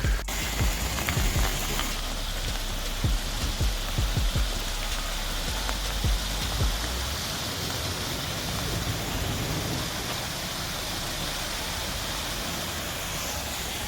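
Rain falls steadily on a wooded hiking trail in a nature park, a dense, even hiss close by, with scattered heavier drops and taps during the first half.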